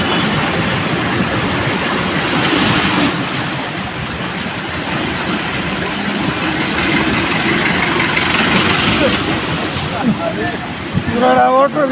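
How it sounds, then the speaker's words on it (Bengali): An auto-rickshaw ploughs through a flooded road in Gazipur in the rain, with a constant engine rumble and rushing, splashing water close by and a few voices near the end. "পুরা অটোর ভিতরে পানি উঠে দিচ্ছে"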